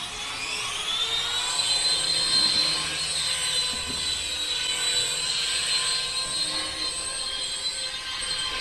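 A small XVB Force Flyer two-channel infrared toy RC helicopter flies steadily nearby, its tiny motor and rotor giving a continuous high whine and buzz that rises slightly with throttle and holds without pause.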